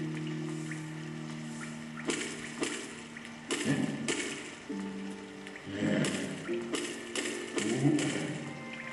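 Splashing through water in the game Hollow Knight, a few soft watery splashes and sloshes rising in bursts over a steady game backdrop.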